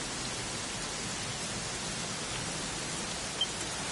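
Steady rain pours in the Dragon Quest XI game on PS5, a soft even hiss of falling water with no distinct drops and no talking, constant and moderately quiet.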